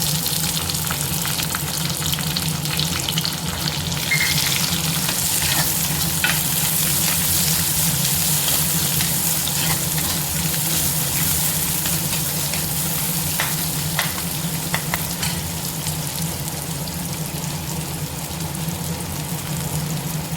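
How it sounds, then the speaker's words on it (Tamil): Fennel seeds and shallots fry in oil in a pan with a loud, constant sizzling hiss, and a few faint stirring scrapes come through the crackle over the whole stretch. "கொஞ்சமாக சோம்பு கட் பண்ணி வச்சுருக்க சின்ன வெங்காயம் சேர்த்துக்கலாம்"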